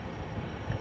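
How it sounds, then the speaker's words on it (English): An old train passes close by, its loud, steady rumble filling the whole moment with a dense low roar and no voices over it. "Sorry about the loud noise behind me. That would be a train."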